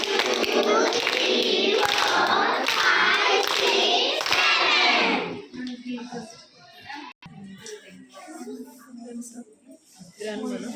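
Children at a seventh birthday party at school clap together in a burst of several quick claps amid chatter, then the clapping stops and children's voices continue.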